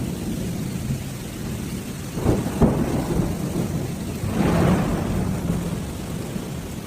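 A thunderstorm with heavy rain over Shanghai: steady rain hiss throughout, with two rumbling thunder rolls, one sharp crack partway in and a longer swell shortly after, no voices.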